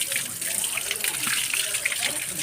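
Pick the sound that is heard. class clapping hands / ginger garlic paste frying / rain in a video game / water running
water running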